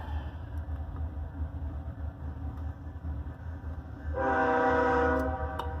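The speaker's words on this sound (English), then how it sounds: "Uh-oh, train's coming." A loud train horn blares out over the steady rumble of a passing train, the low roar continuous throughout.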